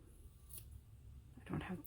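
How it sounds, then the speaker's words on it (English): Fabric scissors snip ribbon ends on a handmade Christmas card, a couple of quick close cuts near the end of a quiet moment. "Trim those ends once more."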